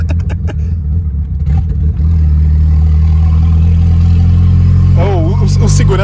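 A loud, steady Fiat Tipo 1.6 Turbo engine rumble with a raw, unmuffled roar after its exhaust fell off over a pothole, holding throughout, with brief voices and clatter early on.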